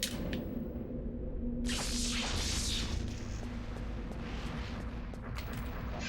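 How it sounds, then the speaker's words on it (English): An explosion goes off in the video game Eternal Darkness. A dense, rumbling blast swells up over a steady low background hum and fades out over several seconds. "early explosion, another good trapper"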